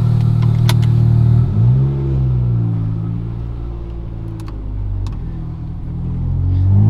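A Honda Civic engine with a wheel well air intake idles and revs with a steady low rumble, a faint intake hiss riding over it and a few sharp clicks early on.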